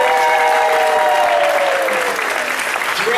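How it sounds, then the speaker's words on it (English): A crowd claps through a mayoral proclamation ceremony in Kauai, Hawaii, a loud continuous wash of applause with a few voices calling out and a tone sliding down beneath the clapping. "everybody clap"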